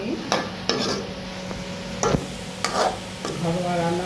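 Onion and garlic frying in oil, a low sizzle under sharp knocks and scrapes of a spatula against the pan, several distinct strokes spread over the clip, with no talk.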